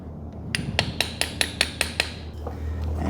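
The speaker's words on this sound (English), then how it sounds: "my special tool is, I just get an extension and a hammer" A hammer taps an extension bar to seat a crankshaft seal on an M156 engine of a Mercedes C63 507, giving about eight sharp, evenly spaced metallic knocks over a steady hum of workshop background noise.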